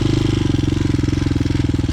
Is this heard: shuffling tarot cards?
no